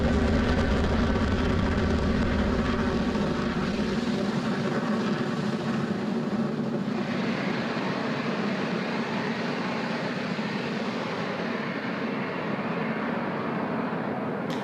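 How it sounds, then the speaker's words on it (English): A SpaceX Falcon 9 rocket lifts off from Space Launch Complex 40 at Cape Canaveral Space Force Station. Its steady, loud, broad roar holds throughout, with the deep rumble thinning partway through. "Falcon 9 has successfully lifted off from Space Launch Complex 40 at Cape Canaveral Space Force Station"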